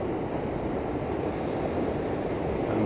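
Ocean waves rolling onto the shore at Sant Elm on the Mallorca coast, a steady, loud wash of surf with wind buffeting the microphone, continuous with no pauses and no voices.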